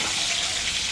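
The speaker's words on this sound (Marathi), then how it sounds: "लसूण, कढीपत्ता, जिरे मोहरी टाकलं," Garlic, curry leaves, cumin and mustard seeds hitting hot oil for a moth bean dish, a loud dense hiss and crackle for a brief moment, close and alone.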